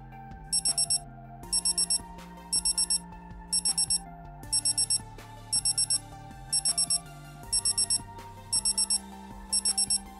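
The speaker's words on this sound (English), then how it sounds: "So we get a 10-second 4-beep alarm with that one." A Casio AB-550 analog-digital data bank watch sounds its timer alarm: ten seconds of repeated groups of four quick, high, thin electronic beeps at a steady rhythm, heard close up over quiet background music.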